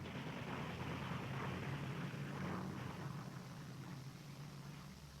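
A WWII Japanese propeller aircraft flies during the Battle of Leyte Gulf, giving a faint, steady droning engine roar mixed with broad hiss that fades slightly toward the end, with no voices.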